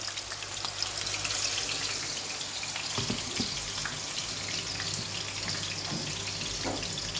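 Beef steaks sizzle steadily in a hot pan, a continuous close, fairly loud frying hiss with occasional crackles and no talking.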